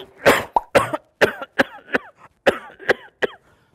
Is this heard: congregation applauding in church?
no